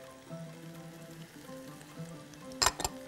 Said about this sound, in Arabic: وهبدا في التشويح